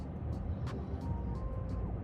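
A 2016 Chevrolet Spark LTZ with a 1.4L engine accelerates, its steady low engine and road drone filling the cabin with faint higher whine, no talking over it.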